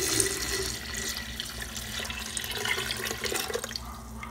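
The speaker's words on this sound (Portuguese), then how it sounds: "Após botar as bananas na panela de pressão, cobrir as bananas com água." Water pours into a pressure cooker to cover green bananas, a continuous tap-like splashing stream with a steady hiss and faint metallic resonance throughout, close and moderately loud.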